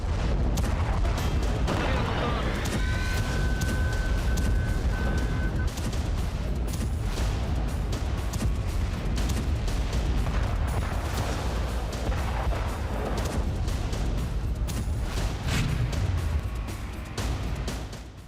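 Heavy bombardment during an airstrike on Dahiya, Beirut: a continuous dense roar of blasts and rumbling booms, loud and sustained, with crackling bursts layered over a deep low-end rumble that fades slightly at the end.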